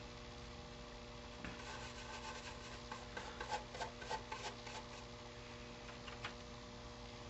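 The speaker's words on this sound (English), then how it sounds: "We're just brushing it down" A small paintbrush strokes paint onto an HO scale model railroad building sign, making faint, soft rubbing sounds over a steady low hum.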